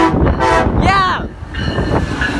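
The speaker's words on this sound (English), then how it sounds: "That's another Amtrak, and blow that horn" An Amtrak passenger train sounds its horn at a railroad crossing during a railfan meet in Glenview, giving a loud close blast of harmonic chords partway through, with rolling rail and wheel noise running underneath the whole time.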